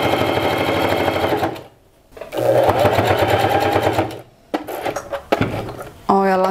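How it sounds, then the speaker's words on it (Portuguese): A sewing machine runs in steady loud bursts while stitching cotton and thick fleece fabric, pausing briefly between runs amid faint clunks, with a voice speaking over it. "Vamos costurar pra ver se a máquina aguenta bem."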